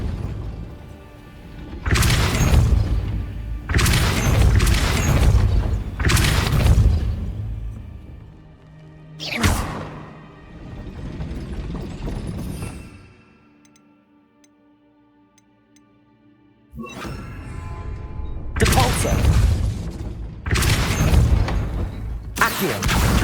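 A Depulso spell in Hogwarts Legacy triggers a heavy mechanism raising a gate: loud booming, clanking bursts of stone and metal, a quieter ticking stretch, then more crashing movement.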